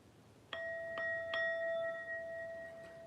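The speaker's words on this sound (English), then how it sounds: "it's a singing bowl." A singing bowl is struck three times in quick succession, each strike giving a bright metallic ping that blooms into a long, pure sustained ring, the overlapping tones lingering and slowly fading in a quiet room.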